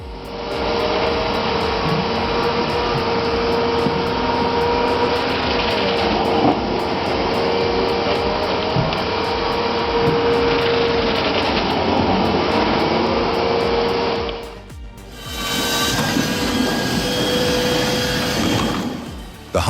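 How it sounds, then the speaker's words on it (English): A heavy firewood processor cuts logs with a large saw blade, then splits them and conveys the pieces. A loud, continuous mechanical drone and whine runs throughout, dips briefly, then shifts to a harsher, brighter roar. "firewood processor handles large volumes of wood with precision. The enormous saw blade makes quick work of logs, which are then split and conveyed effortlessly."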